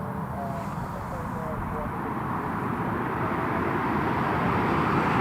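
An EasyJet airliner comes in to land on runway 25 at Newcastle International Airport, a steady broad engine roar that builds gradually and grows louder toward the end, with a faint tonal whine riding on top.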